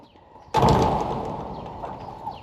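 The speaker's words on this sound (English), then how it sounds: "I've got the automatic hinges so that they're spring loaded, so it'll shut the door" A spring-loaded door on automatic hinges swings shut on a chicken coop with a single loud slam, and the sound rings out and slowly decays.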